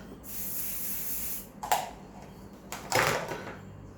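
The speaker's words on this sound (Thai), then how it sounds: "ฉีดสเปรย์ใส่หวีเลอแล้วเราก็หวีกัน" Hair spray hisses onto a comb in a long, close burst, followed by two shorter sharp spritzes with brief pauses between them; no voices.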